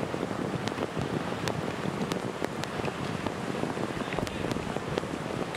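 Heavy rain pours straight down on an outdoor rugby match between Malaysia and Chinese Taipei, making a steady, dense hiss with little wind, continuous and even throughout.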